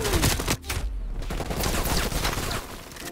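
Rapid bursts of AK-74u automatic fire in the video game Call of Duty Cold War, loud and close. There is a brief pause near the start, then steady firing resumes.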